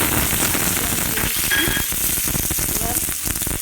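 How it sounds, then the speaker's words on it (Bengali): Cut potatoes fry in hot oil in a wok, giving a steady, loud, continuous sizzle and crackle close up, with no voices over it. "এবার আমি আলুগুলো ভেজে নেব।"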